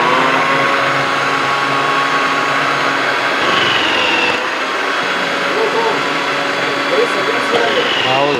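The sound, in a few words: mixer machine cutting potatoes into French fry pieces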